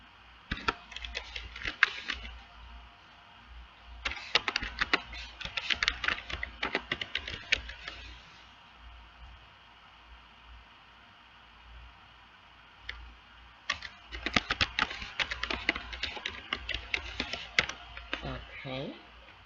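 Bursts of rapid computer keyboard typing in three clusters, close and moderately loud, separated by quieter stretches with faint background noise; no one speaks.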